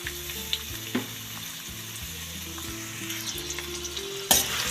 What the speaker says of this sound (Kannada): ಸ್ವಲ್ಪ ಫ್ರೈ ಆಗುತ್ತೆ ಈರುಳ್ಳಿ